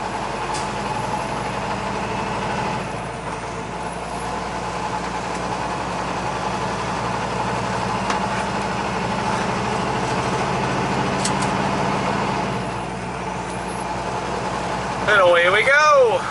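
A truck's engine idles steadily, a loud, constant low rumble with the trailer's refrigeration unit pre-cooling, and a brief louder burst near the end.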